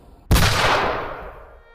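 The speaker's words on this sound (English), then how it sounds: "A single shot cracked through the dawn." A single loud gunshot cracks out at dawn during a coup, with a sharp onset and a long rumbling echo that fades away. No one speaks.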